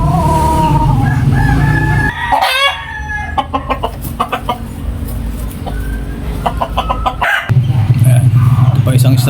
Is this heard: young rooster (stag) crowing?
yes